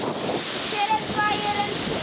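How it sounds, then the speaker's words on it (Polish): Strong wind buffets and roars across the microphone in steady gusts during a pigeon racing flight release, with faint whistling tones drifting in and out. "Ale wiatr. Duży na pewno."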